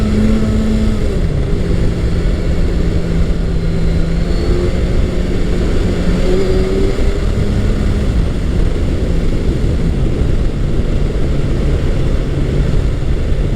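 A 2020-2024 Kawasaki Ninja 1000SX motorcycle fitted with an Akrapovic exhaust is ridden on the road. Its engine gives a steady, moderately loud drone that shifts slightly in pitch, heard mixed with continuous wind rush and no talk.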